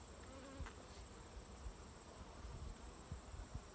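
Honeybees humming steadily around a beehive brood frame, a faint, continuous close buzz with a few soft handling bumps and no talk.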